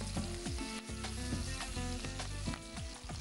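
Tomato softening as it fries in a pan with green chilli: a continuous close sizzle with repeated scraping and knocking stirring strokes at an uneven rhythm, fairly quiet overall and without speech.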